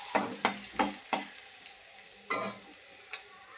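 Garlic, cumin and crushed peanuts hitting hot oil in a pan, giving a sharp sizzle with several bursts of crackling frying as they are added and stirred, close and moderately loud.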